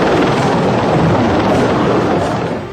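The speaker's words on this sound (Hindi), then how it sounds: "ऐसे 4 अपाचे अटैक हेलीकॉप्टर्स भारत पहुंच चुके हैं।" A Boeing AH-64E Apache attack helicopter roars loud and close with a steady, dense rotor and engine drone that fills the whole stretch, easing slightly at the very end.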